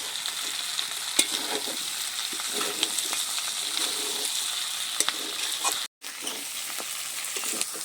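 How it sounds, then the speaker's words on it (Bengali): Fried potatoes and meat sizzling steadily in a hot pan while being stirred and sautéed, a loud close frying hiss with scraping stir clicks and one brief dropout, with no talking. "বেশ সুন্দর করে আলু ভালোভাবে মাংসের সাথে কষে নেব।"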